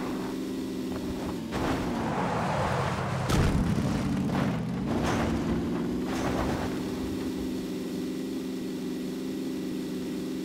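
A motorcycle engine in the video game PUBG drones at a steady pitch, briefly dipping and surging as it revs, loud and continuous with a few sharp knocks layered on top.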